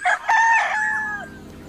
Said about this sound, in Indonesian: ini namanya ayam jantan warna orange